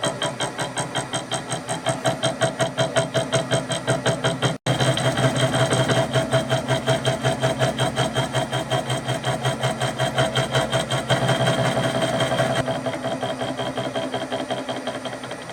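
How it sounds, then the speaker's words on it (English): A Victor lathe cuts a tooth on a 50-tooth change gear, indexed by an electronic dividing head, giving a steady, close, rapidly pulsing mechanical chatter that runs on without a break apart from one brief dropout. "I'm going to get this on the go, and we'll cut another tooth"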